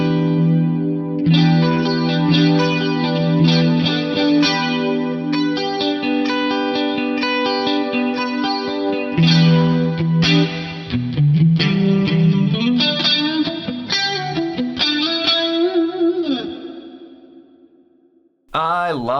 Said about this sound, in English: I'm going to hit one switch and it's going to kick in both chorus blocks